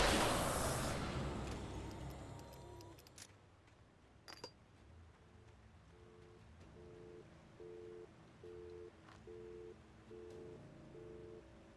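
A telephone left off the hook in the video game Alan Wake gives a faint, repeating busy tone, short evenly spaced beeps pulsing over a quiet hiss after a brief burst of noise at the start.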